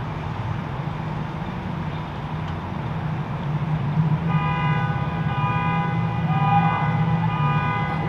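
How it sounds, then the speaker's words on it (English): Near railroad tracks in Royal Oak, Michigan, a car horn sounds a steady tone partway through, rising over a low rumble of passing rail traffic. "That's a car horn right there."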